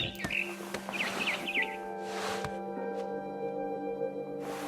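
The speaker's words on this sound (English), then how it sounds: "Then I heard chirping outside my window. It was a barn swallow going back to her nest." Barn swallow chirping in the video game What Remains of Edith Finch, several quick high twittering calls in short bursts near the start, set over a quiet hum and soft background noises.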